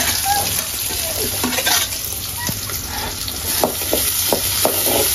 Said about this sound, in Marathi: त्यानंतर लसूण टाकली पाहिजे. कांदा लाल होईपर्यंत वाट पाहावी.